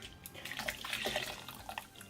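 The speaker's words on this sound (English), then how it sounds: "pour a bit of water in here. Now, careful, this is hot water" Hot water is poured into a can, a close splashing trickle that rises and fades over a couple of seconds.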